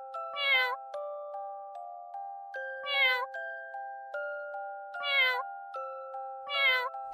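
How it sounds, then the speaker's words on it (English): Four cat meows in a steady rhythm, each short and plaintive, separated by pauses filled with soft, sustained chime-like tones. "Cat, meow."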